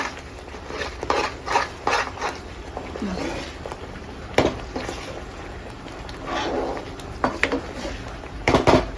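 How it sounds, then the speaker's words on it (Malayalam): A jackfruit and coconut mixture is stirred over heat in a pan, with repeated scraping and clinking of a spoon against metal in irregular bursts, close by, over a low background hum. "കൈ വെക്കാതെ ഇങ്ങനെ ഇളക്കി ഇളക്കി കൊടുത്തിട്ട്"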